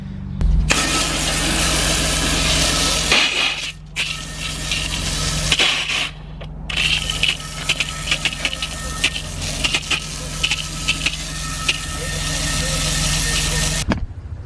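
A pressure washer sprays a car wheel with a loud, steady hiss over a motor drone, cutting off briefly twice before resuming and stopping at the end.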